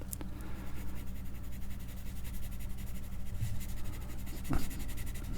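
Pencil sketching on paper during a live drawing session: continuous soft scratching strokes close to the microphone, with a few sharper taps, over low background hum.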